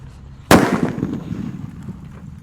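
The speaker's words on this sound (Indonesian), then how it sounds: "Lanjut yang akan kita nyalakan mercon buntelan kertas yang ukuran lebih besar guys. Kita masukkan ke dalam tanah ya." A large paper-wrapped firecracker buried in soil goes off in one sudden, loud, close blast, followed by a muffled rumbling decay as debris settles.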